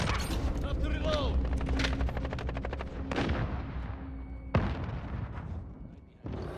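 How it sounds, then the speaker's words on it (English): A weapon is reloaded in Call of Duty Warzone, with mechanical clicks and ratcheting mixed among bursts of in-game gunfire. Several sharp hits cut through a busy, loud battle soundscape. "Have to reload."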